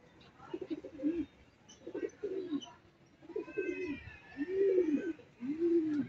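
Racing pigeons coo in a steady series of five soft, low, rounded calls close by, with faint chirps and background noise between them.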